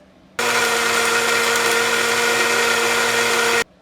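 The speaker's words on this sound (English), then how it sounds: "Blend together well for 1 minute." A blender whirs loudly and steadily for about three seconds, blending taro bubble tea with half and half, sugar and ice cubes. It starts and stops abruptly.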